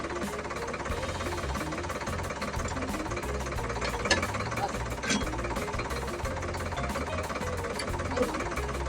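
A tractor engine runs loud and steady during ploughing in a field, a continuous low knocking rumble with a couple of brief sharper knocks.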